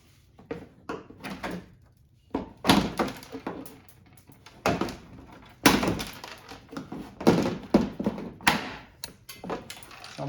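Old, brittle plastic clips snap loose one after another from a 2002-2006 Lexus ES300 headlight assembly, giving a series of sharp, close thunks and cracks spread irregularly through the stretch.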